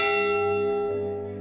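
The Edmund Fitzgerald's ship's bell at the Great Lakes Shipwreck Museum on Whitefish Point rings once, a single clear metallic strike whose tone hangs and slowly fades.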